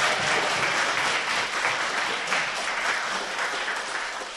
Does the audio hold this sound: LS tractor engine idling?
no